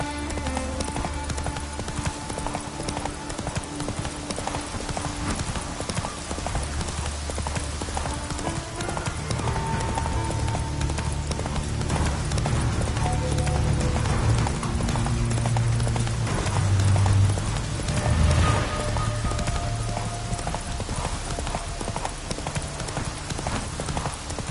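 Roach the horse gallops in The Witcher 3, steady rapid hoofbeats thudding continuously under a wash of ambient game sound, with a brief low snort near the middle.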